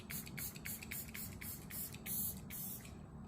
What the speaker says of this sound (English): Now I'm gonna spray my face again here and do some highlighting.